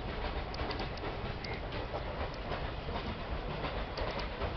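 An Indian WDG4 dual-cab diesel locomotive rolls past in a steady, muffled, continuous rumble with faint rattling wheel noise throughout. No voices are heard.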